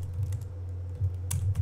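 Keys tapped on a computer keyboard while writing HTML for a slideshow in Notepad, a few soft clicks in short bursts over a steady low hum, close and fairly quiet.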